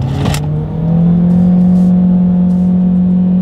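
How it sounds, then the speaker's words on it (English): A 2020 Honda HR-V engine pulls hard under full throttle from a rolling start, a loud, steady, rising drone that swells after a brief dip and holds near the microphone, with no talking. "it does get quite noisy when you really hit the gas in the HR-V."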